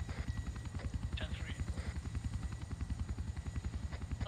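Helicopter in a Vietnam war video game gives a steady, rapid rotor thump throughout, close and prominent, with faint voices over it.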